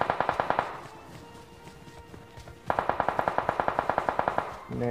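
Rapid automatic gunfire from BGMI / PUBG gameplay comes in two sharp, evenly spaced bursts, a loud volley at the start and a longer one after a short lull, with echoing tails between.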